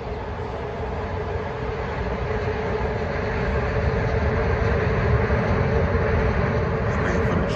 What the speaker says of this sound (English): Waiting for the train.